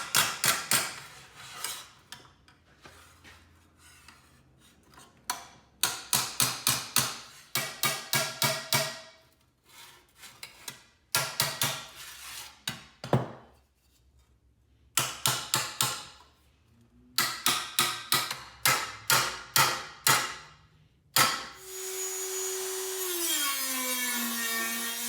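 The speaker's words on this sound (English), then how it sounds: "I'm gonna do a little bit of sanding and filing and grinding and" Bursts of harsh abrasive sanding, filing and grinding on a sheet metal toolbox lid, repeated in several spells with short pauses, ending in a sustained whirring tone.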